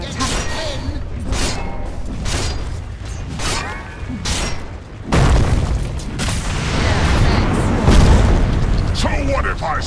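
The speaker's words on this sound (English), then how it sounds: "Middle tower is under attack." Explosions from a tower under attack in Dota 2 rumble through busy game noise, with a heavy boom around the midpoint and sustained rumbling blasts after it, loud and close, while a voice speaks over the action.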